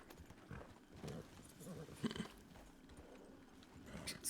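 Hooves of a Turkmen horse clip-clop at a steady walking rhythm in a western ranch roleplay video game, fairly close and clear with little else over them.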